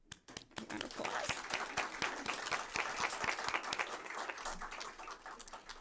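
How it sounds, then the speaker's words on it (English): A room at a school board meeting breaks into applause for a choral director, starting with scattered claps and quickly swelling into steady, moderately distant clapping from many hands. "Round of applause."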